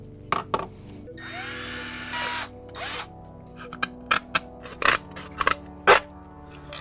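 Power drill boring a hole for a wireless charger, a short sustained whine of about a second and a half between scattered clicks and knocks, close and moderately loud.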